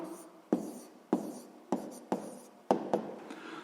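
A pen writes out the answer to a sixth-grade maths exercise in a series of quick strokes, about six short scratchy bursts in an uneven rhythm, close and alone.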